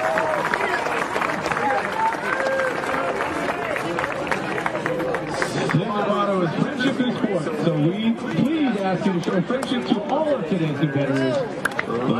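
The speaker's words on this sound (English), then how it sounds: "give a big round of applause for the local youth marching on with the teams today" Crowd applause and chatter at a women's military football championship match between Germany and the USA, honoring local youth marching on with the teams and flag-holding volunteers; steady, dense clapping and hubbub throughout, with a voice speaking over it.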